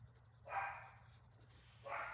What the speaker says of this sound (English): my dogs are impossible. They are so annoying. They bark all the time.